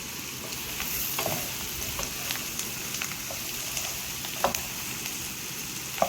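Boiled potatoes frying in a pan with onion and chilli powder masala, making a quiet, even crackling sizzle broken by occasional scrapes and taps of a stirring spoon, with no one talking.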